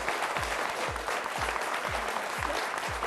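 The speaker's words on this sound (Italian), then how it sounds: "Ti facciamo anche un applauso." A television studio audience applauds steadily and loudly, a dense wash of clapping running through the whole moment with a repeating low thump beneath it, likely backing music.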